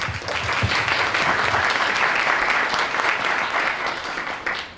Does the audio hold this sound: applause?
yes